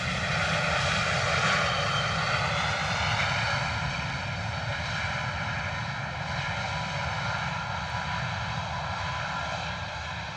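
Airbus A321neo jet arriving at misty London Luton Airport after a flight from Bucharest, a loud continuous engine roar with whining tonal harmonics that holds steady and eases slightly toward the end.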